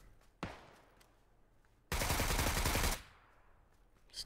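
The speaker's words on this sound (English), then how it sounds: "Nobody's dying, but they're shooting right now." Gunfire in the PUBG battle royale game on the Sanhok map: one sharp shot, then a dense, loud one-second burst of automatic fire, fading to quiet with a faint distant pop at the end.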